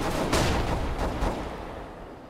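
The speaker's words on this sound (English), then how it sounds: "Throwing flashbang." Muffled, hissing bursts from a flashbang grenade in the Counter-Strike: Global Offensive video game, with several soft pops over about two seconds, fading slightly toward the end with no talk.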